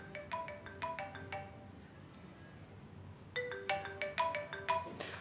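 A telephone rings twice, each burst a quick run of bright electronic tones, separated by a short pause and followed by the second, louder ring.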